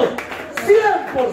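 A church congregation applauds a pastor's sermon in a brief patter of clapping, close and moderately loud, mixed with a voice speaking over it.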